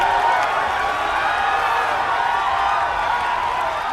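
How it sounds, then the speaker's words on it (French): Dense, overly enthusiastic crowd at a golf course in a 2008 golf video game, a steady wash of cheering and whooping that holds at an even loudness for the full few seconds. "On a droit aussi à une foule un peu trop présente et surtout enthousiaste par rapport au golf que l'on voit à la télé d'habitude."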